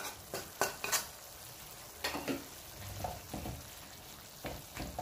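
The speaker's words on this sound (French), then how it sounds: "J'ajoute également les champignons." Mushrooms tipped into a pan of browned carrots, leeks and onion, with a soft sizzle, a few sharp clacks of a utensil against the pan and scraping stirring sounds in short bursts.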